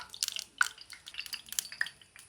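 Hot ghee in a pan for unniyappam spits where water hits it, giving sharp, scattered crackling pops close by, some bright and sudden, others small, with quiet gaps between.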